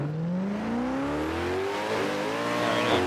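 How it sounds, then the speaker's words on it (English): Loud car engine revving in a racing video game, pitch climbing steadily as it accelerates, with a continuous roaring drone and no voices. "Let me get a quieter car because the thing is too loud."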